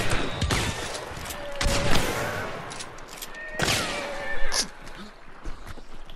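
Gunfire in Hunt: Showdown: several sharp, loud shots crack out in bursts, spaced irregularly over the clip, mixed with horse whinnies and noisy game ambience while players talk throughout.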